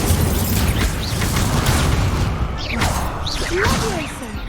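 Fire spell Incendio cast in Hogwarts Legacy, a sustained loud burst of whooshing, crackling flame and rumble lasting several seconds, with faint shouted voices and sweeping tonal effects layered over it.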